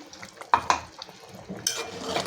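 A spoon stirs wet ground coconut paste into a Konkani-style clam curry in a pot, giving a few close scraping clinks with soft wet mixing between them.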